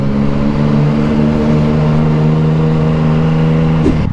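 A motorcycle engine revs hard and close, holding a loud, steady, buzzing drone for several seconds before dropping off sharply at the end.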